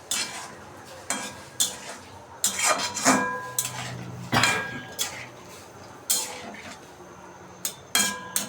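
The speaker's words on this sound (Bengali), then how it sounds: "এখন আমি ব্রোকলিগুলিকে নেড়ে নেব একটু" Broccoli being stirred in a metal pan, with repeated clanking scrapes of a spoon against the pan about once a second, close and fairly loud, separated by quieter gaps with a faint sizzle.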